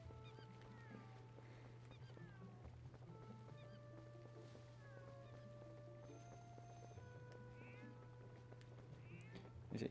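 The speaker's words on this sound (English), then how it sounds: "You must be the shop guy's cat." A cat in the video game The Legend of Zelda: Twilight Princess meows several times, quiet and close, over a low steady hum and game music tones, with no talk.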